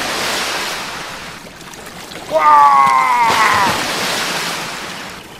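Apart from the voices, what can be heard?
rushing waterfall water in Transformers Rescue Bots toy video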